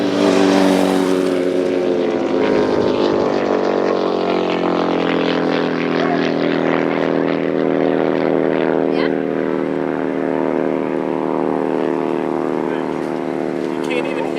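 A loud motorcycle engine roars close by at high speed at Bonneville, its pitch sliding downward as it passes and then holding as a sustained drone.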